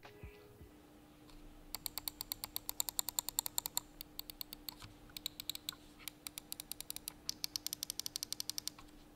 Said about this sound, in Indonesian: Next buat switchnya di sini dia udah pakai Huano Blue Shell White Dot